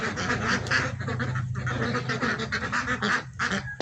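A flock of roughly a hundred ducks kept for sale at a farm and nursery in Ponnani, Kerala, quacks continuously and loudly close by, many calls overlapping in a busy, unbroken chorus.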